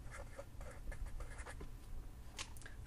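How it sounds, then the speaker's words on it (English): Writing on paper while working an algebra problem: rapid, light scratchy strokes in short bursts, quiet and close, with no speech. "I'll write my answer"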